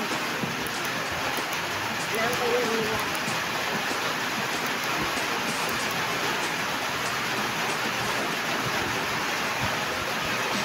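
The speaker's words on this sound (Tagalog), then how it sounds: "Lakas na ng ulan." Heavy rain pours in a dense steady hiss across the whole stretch, with a voice speaking briefly over it.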